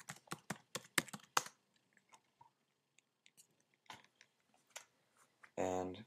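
Password being typed on a Mac keyboard: a quick run of about eight sharp key clicks in the first second and a half, then scattered single taps, ending in a louder burst.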